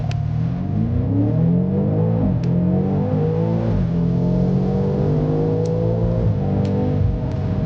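A BMW M5 and a Zeekr 8X accelerate side by side in a drag race, a loud, steady engine drone rising in pitch through gear changes, recorded close from inside the car.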